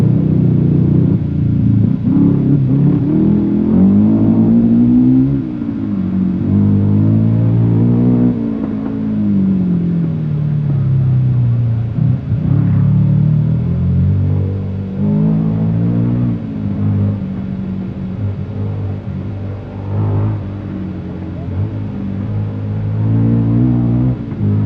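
A rally car engine with a damaged exhaust manifold rumbles and revs loudly and roughly, rising and falling in pitch as it accelerates and eases off, with a rasping, throaty exhaust note.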